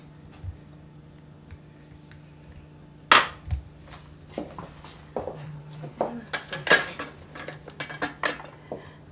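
Cooked rice is plated into a small cup alongside lobster and crabmeat ravioli, with clinks of cutlery and dishes, a sharp knock, and a run of quick scraping taps in the second half over a low steady hum.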